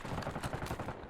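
Rapid gunfire in the video game Call of Duty Warzone, a short, dense rattle of overlapping shots, loud and steady for about a second.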